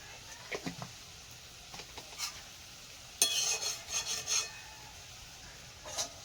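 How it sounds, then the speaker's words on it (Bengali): A spatula scrapes and rubs through spice masala in a pan at close range, giving bursts of gritty stirring strokes between quiet gaps, with faint sizzling and no voices. "মশলাটাকে ভালো করে নাড়িয়ে নেব"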